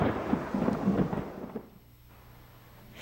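Thunder from a thunderstorm rolls as a deep, rumbling peal that swells and then fades over a couple of seconds into quieter background hiss, with no voices.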